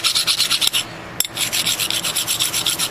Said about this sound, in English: I'm just using this fine file here